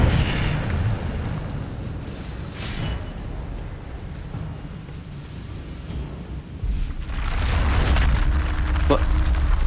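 Incendio fire spell blasts in the Hogwarts Legacy video game: booming, eruptive bursts at the start and a larger surge near the end, over a steady rumbling game soundscape with a voice speaking.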